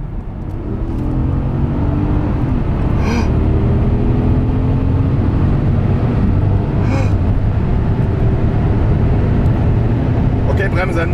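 An Audi SQ7 tuned to over 500 hp accelerates hard in a side-by-side race, a loud, steady engine roar heard from inside the cabin, with people gasping and talking over it.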